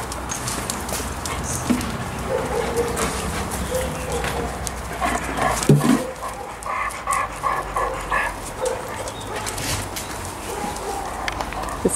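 A dog pants steadily close by, with soft irregular clicks and rustles around it; the sound stays fairly quiet throughout.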